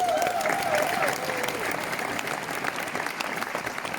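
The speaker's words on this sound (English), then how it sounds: "Major round of applause for these people." Applause at a network marketing event in Budapest, a room of people clapping steadily for first-time attendees, with a brief whoop at the start before the clapping thins slightly.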